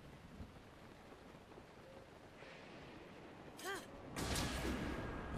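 Thunderstorm in the video game Zelda: Breath of the Wild: steady rain hiss builds, then a sharp crack and a loud, rolling rumble of thunder in the last second and a half.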